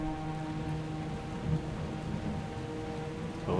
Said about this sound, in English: yep, the rain is too much.